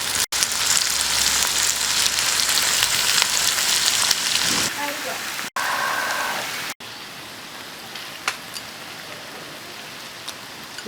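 Pork ribs stir-frying in a dry pot give a loud, dense, steady sizzle for about five seconds, then drop to a softer crackle with occasional sharp clicks.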